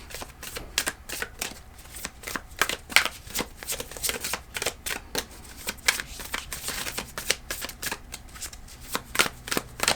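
Tarot cards shuffled by hand during a reading, a steady run of rapid crisp riffling snaps and flutters lasting several seconds, close and moderately loud, with no talking.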